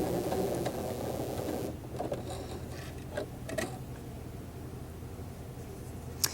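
A sewing machine back stitching a pocket facing on pants, a low steady mechanical whir that drops in level partway through, with a few soft clicks and taps from handling the fabric and machine.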